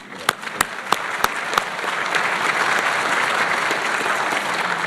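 Audience applause and cheering fill the hall at a community award presentation ceremony, opening with a few sharp, loud claps before swelling into steady, sustained crowd applause.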